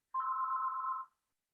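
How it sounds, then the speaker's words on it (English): A single short telephone ring, a clean steady electronic tone lasting about a second, alone and fairly faint against silence. "That's the phone."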